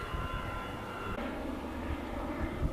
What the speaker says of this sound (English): What's that, the Airbus to the Sillies?